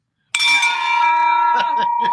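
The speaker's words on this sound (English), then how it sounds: "Pace, ring that bell for her." A handbell rung to celebrate a closed real estate deal clangs loudly once, its bright ringing tone sustaining and decaying, with a few softer repeat strikes near the end; no speech over it.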